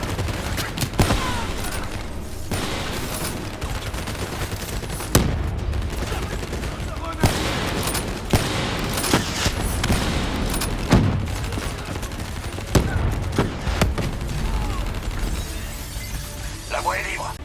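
Turret and rifle fire in the Call of Duty Black Ops 3 campaign, with rapid bursts, sharp shattering impacts and loud booms throughout, while voices shout under the gunfire.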